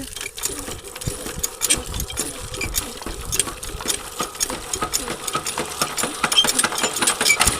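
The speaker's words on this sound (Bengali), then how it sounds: "এই দেখেন আমাদের এখন ডিপ মেশিন চালু হবে ডিপ মেশিনগুলো স্টার্ট করা হবে" Deep tube-well pump machines on a farm running with a rattling, clattering mechanical drone and irregular clanks, loud and continuous, with faint voices in the background.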